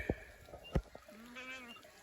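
Sheep and lambs bleat as the lambs are separated from the flock; a few sharp knocks come first, then one drawn-out wavering bleat rises close by, with no talk.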